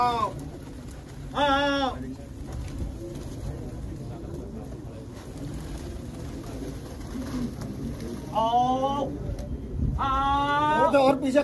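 Pigeons call in short bursts at a Delhi pigeon-keeping gathering, one early and two more near the end, over a steady murmur of background noise.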